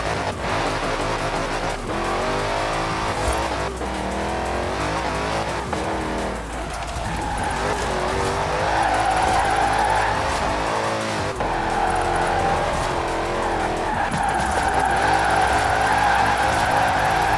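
A car drifts in Forza Horizon 4, its engine droning loud and continuous while the tires squeal in long sustained wails that rise and fall through the slide, with no voices over it.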